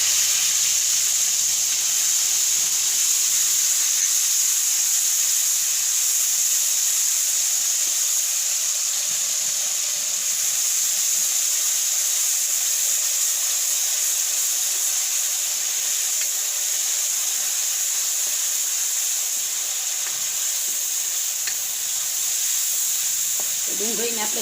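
Onions dropped into hot oil in a pan while cooking a cashew and pea curry, giving a strong, continuous sizzle and hiss that stays loud and even throughout, with no talking.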